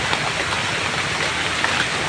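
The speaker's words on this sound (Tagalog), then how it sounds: "Ay, Umuulan na." Rain falling in the mountains below a waterfall, a steady, dense hiss of drops that stays even and fairly loud from start to finish.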